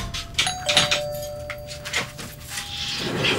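A home doorbell rings at an apartment door, giving a couple of bright chime tones that ring out and decay, followed by another brief tone, with faint room background.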